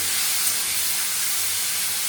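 Small cut cauliflower pieces fry in a hot pan, giving a loud, unbroken sizzling hiss that holds steady from start to finish, with no one speaking.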